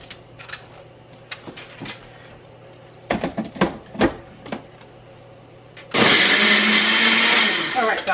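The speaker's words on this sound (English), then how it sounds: "I got everything transferred over into our bigger blender" A kitchen blender starts up loud and close after several clattering knocks and handling noises, then roars steadily for the last couple of seconds.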